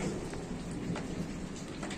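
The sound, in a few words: rain and thunder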